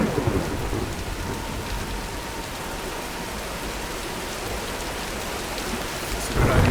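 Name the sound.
rain and thunderstorm in the video game Tomb Raider (2013)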